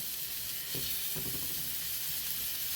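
Rolled pork belly sizzles in hot oil, a steady close crackling hiss with a few soft bumps of the pieces being placed in the pan, no talking.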